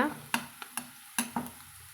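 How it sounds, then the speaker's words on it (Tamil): Sliced onions sauté in a pan for a chicken pepper fry, with five or six distinct spatula scrapes in an uneven rhythm over a soft, steady sizzle, close and clear. "நம்மளுக்கு வெங்காயம் வந்து ஓரளவுக்கு லைட்டாக பொன்னிறமாக வதங்கி வரட்டுங்க அது வரைக்கும் வதக்கலாங்க"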